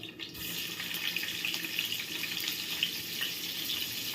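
Chopped onions fry in about four spoons of oil in a pan, a steady close sizzle and hiss that runs unbroken throughout.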